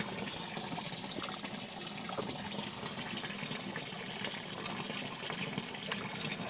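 Water running steadily into a container at a roadside source in Portugal, a continuous gushing pour that stays even and fairly close throughout, with no voices.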